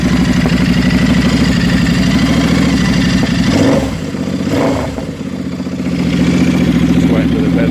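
Royal Enfield 650 Interceptor twin engine fitted with new silencers, running loud and close with a steady throaty idle, briefly easing down in revs mid-clip before settling back.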